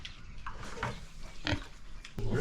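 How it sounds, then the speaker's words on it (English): A pig on a ranch grunts and snuffles up close in short irregular bursts over a low background rumble. "POV, you're getting eaten by a pig"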